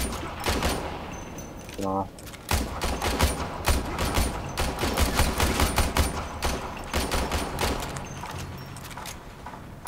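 Rapid bursts of gunfire from the video game Warframe as the player shoots at barrels, with dense overlapping shots and impacts filling most of the stretch, and a brief spoken word near the start.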